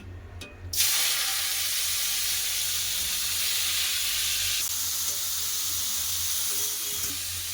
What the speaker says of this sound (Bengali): তেল গরম হয়ে গেছে দিয়ে দেবো আলু উচ্ছা